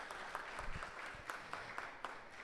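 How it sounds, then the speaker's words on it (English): Faint applause from an audience at a senior graduation celebration, a thin patter of claps with a few sharper individual claps standing out, quiet and distant. "Round of applause for everyone."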